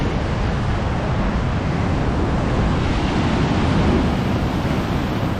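Heavy ocean swell waves crash against a rocky ledge in a continuous loud roar of surf, with wind buffeting the microphone and no voices.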